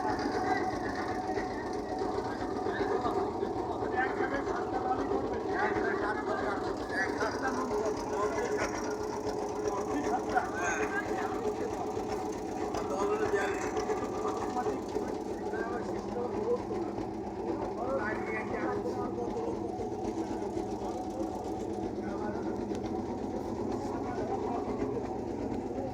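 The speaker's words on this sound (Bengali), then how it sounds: "এখন ইঞ্জিন চালিত যে নৌকা, সেই নৌকা ধরে" An engine-powered ferry boat crossing the nearly dry Gorai river between Goaldah and Narua ghats, its motor chugging in a steady, rapid, knocking rhythm for the whole stretch, with someone narrating over it.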